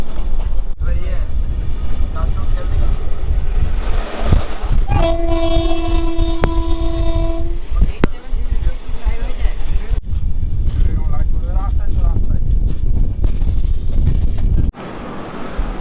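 Passenger train from Kolkata running toward Gomo station in Jharkhand, a loud steady rumble of wheels and carriages close by, with a long horn blast in the middle and voices over it.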